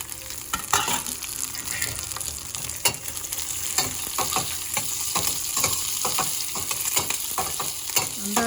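Mustard seeds and cumin sizzle and crackle steadily in hot oil in a pan, with scattered sharp pops over a continuous frying hiss, close and fairly loud while making mint chutney.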